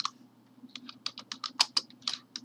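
Quick, irregular clatter of keys on a computer keyboard as a shell command is typed, close and clear with no talking.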